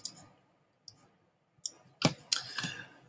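Mouse clicks in the Stencyl game editor come as a handful of sharp, separate clicks, sparse at first and then closer together, near and fairly quiet, with no talk.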